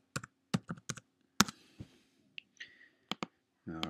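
Password typed on a computer keyboard: short bursts of crisp key clicks in quick clusters with brief pauses, close and distinct in a quiet room.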